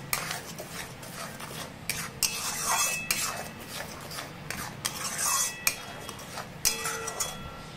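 A spoon scrapes and clinks against a pan while stirring a spice and tomato masala, with irregular bursts of metallic scraping over a soft background, and nobody speaking.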